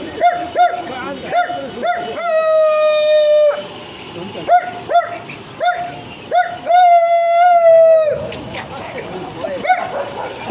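A voice imitates a dog, giving a series of short barks and yips followed by long drawn-out howls, loud and close with brief pauses between them.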